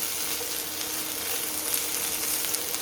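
Vegetables stir-frying in a pan with sesame oil, onion, garlic and ginger over a turned-up burner, giving a dense, even sizzle that runs without a break through the short stretch and has no voices over it.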